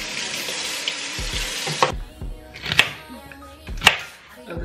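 Celery stalks rinsed under a running kitchen tap, a loud steady gush of water that stops partway through, followed by a few sharp knocks and clatters at a sink.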